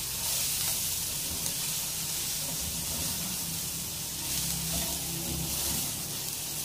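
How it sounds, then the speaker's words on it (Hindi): Shredded cabbage frying in a pan for masala vegetable rice, a steady close sizzle with soft crackling throughout and no talk. "बंद गोभी को थोड़ा सा हम फ्राई कर लेते हैं।"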